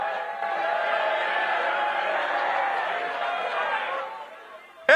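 A convention crowd at the Libertarian National Convention boos in a loud, sustained collective roar that holds steady for about four seconds before tapering off.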